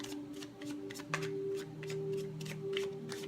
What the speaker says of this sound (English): One shuffle, please.